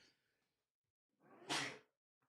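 A single close sneeze, a quick sharp inhale followed by a loud, bright burst, then near silence.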